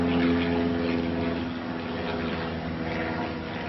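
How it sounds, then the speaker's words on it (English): An airplane flying high overhead, a steady droning engine hum with a tonal whine, distant and even in loudness throughout, with no voices. "The plane is gonna go by it."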